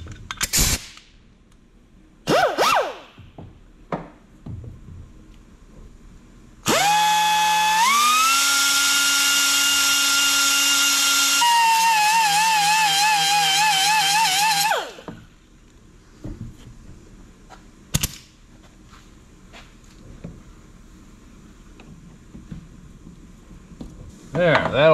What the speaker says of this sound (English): So right here is where we want to grind our groove for the pinch bolt.